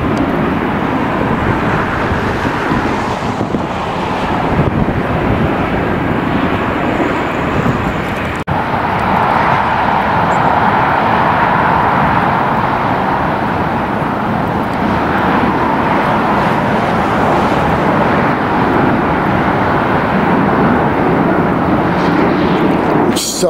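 Continuous broadband roar of a plane flying somewhere near LAX airport in Los Angeles, steady and fairly loud throughout, blended with background traffic rumble and no clear approach or fade.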